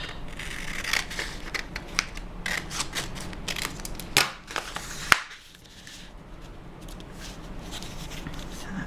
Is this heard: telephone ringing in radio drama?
no